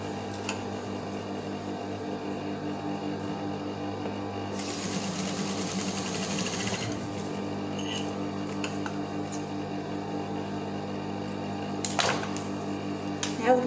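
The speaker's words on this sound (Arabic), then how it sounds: "غنجيب الماكينة غنخيط هنا ونخيط هنا" A sewing machine stitches a homemade medical face mask, its steady rapid mechanical whir running through most of the clip with a louder burst partway in, while a person speaks softly over it.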